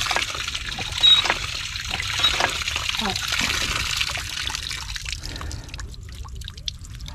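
Water trickles and drips out of a deep well pump outdoors, a close, uneven splashing flow with a people talking over it.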